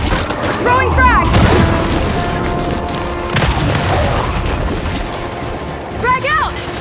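Frag grenade going off in Gears 5 combat: a loud, deep boom rolls under ongoing gunfire and battle noise, with shouting voices heard over the chaos.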